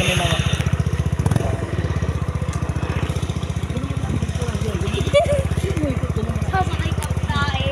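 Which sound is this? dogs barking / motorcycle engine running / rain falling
motorcycle engine running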